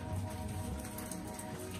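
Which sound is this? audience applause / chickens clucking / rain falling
rain falling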